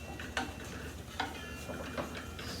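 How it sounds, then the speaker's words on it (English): Precooked food sizzles softly in a pan on a home stove, a steady low fry with a few light clicks of a utensil against the pan, heard alone and at low level. "so I only want them to saute in here a few minutes"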